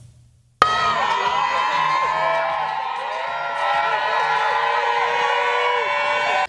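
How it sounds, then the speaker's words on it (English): Supporters line the streets of 8 Mile Rock along a motorcade, their loud, dense cheering and shouting bursting in suddenly and carrying steadily for several seconds, with piercing whoops and whistles rising above the crowd. "A motorcade filled with cheering supporters lining the streets of 8 Mile Rock"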